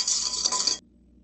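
A whisk rattles briskly through kosher salt and Red Star Platinum yeast in a bowl, a bright, steady scraping clatter that stops abruptly after under a second, leaving quiet room tone.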